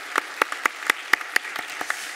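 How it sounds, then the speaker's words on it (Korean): A congregation at a Wednesday church service applauds to encourage the senior elder, with a dozen or so distinct, fairly sparse claps spaced across a couple of seconds in a reverberant hall. "우리 수석 장로님을 위해서 우리 박수로 격려 한번 하도록 하겠습니다"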